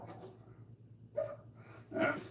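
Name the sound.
dogs barking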